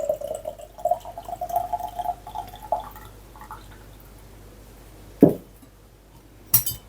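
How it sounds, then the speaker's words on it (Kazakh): Liquid, a homemade herbal remedy, is poured into a glass jar, a faint rising trickle for a few seconds followed by a couple of sharp clinks of glass, with no speech. "Қалған құйып аламыз."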